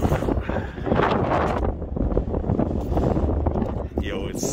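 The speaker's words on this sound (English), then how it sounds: "it's so windy." Heavy wind buffets the microphone in continuous loud low rumbling gusts, with a brief higher whoosh near the end.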